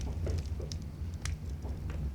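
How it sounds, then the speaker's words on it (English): Rain in the video game Wurm Unlimited, a soft continuous patter with faint scattered drips over a low steady rumble, moderately quiet throughout and without voices. "Oh, it is. It's raining."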